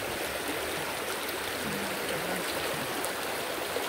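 A clear river at a natural bathing spot with a small waterfall rushes in a steady, close, full wash of flowing water, even and unbroken throughout with no talking.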